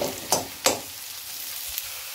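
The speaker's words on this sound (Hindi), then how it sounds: "और ये है प्याज चौकी हुआ, अभी इसको हल्का ब्राउन होने देते हैं। साथ में डाल दिया मैंने कड़ी पत्ता," Sliced onion and curry leaves fry in hot oil for an Indian tadka, giving a continuous crackling sizzle with two sharp clinks of stirring near the start, close and fairly loud.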